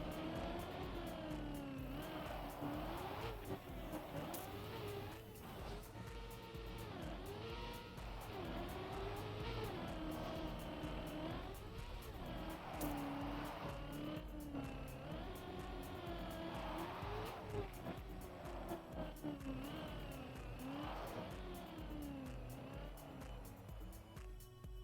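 Engine of a car in the Trackmania racing game, steady and loud throughout, with rising and falling revs that repeatedly sweep up and down, no talk.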